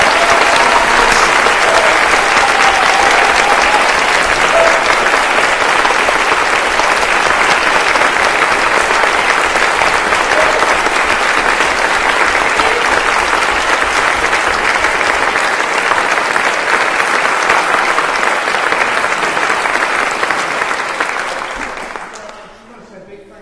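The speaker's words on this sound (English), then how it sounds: "Let's just applaud the man behind it." A church audience applauds after a choir concert at Lancaster Priory, with dense, steady clapping that holds loud for about twenty seconds before tapering off at the end.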